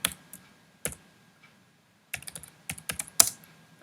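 Someone types a comment on a computer keyboard. A few isolated key clicks come first, then a quick burst of close, crisp keystrokes in an irregular rhythm.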